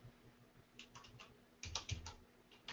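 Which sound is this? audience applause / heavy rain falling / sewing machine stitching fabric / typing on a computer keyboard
typing on a computer keyboard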